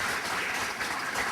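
An audience claps throughout a local debate program, a steady, dense wash of applause that holds evenly from start to finish with no voices rising above it.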